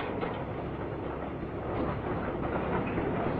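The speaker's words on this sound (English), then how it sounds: "Following up will be the concreting train, with hopper wagons for cement" Concreting train hopper wagons rolling along rails on a 1965 railway, with a continuous rumbling roar and faint rhythmic clatter, steady and moderately loud throughout.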